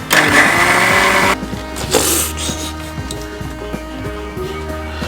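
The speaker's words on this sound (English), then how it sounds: "I'm going to just run this through a mixie." A mixie blender whirs loudly through spinach soup with milk, the jar roaring close and full for over a second, then easing into a lower steady motor hum with a brief surge midway.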